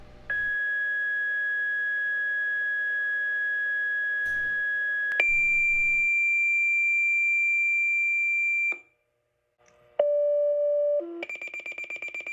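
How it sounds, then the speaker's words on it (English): Pager alert tones play as a sequence of long steady electronic beeps that step up in pitch, drop out briefly, then return as a lower tone followed by rapid pulsing beeps, loud and clear with no talk. "But there would be these pager tones"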